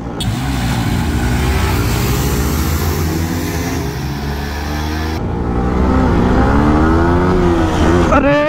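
Motorcycles, an R15 v3, MT-15, NS200 and Duke 200, accelerate hard in a drag race, engines rising in pitch through gear changes with a loud, close roar, a sharp shift about halfway and a rider's voice faintly over the engines.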